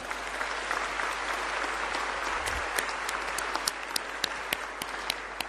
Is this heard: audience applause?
yes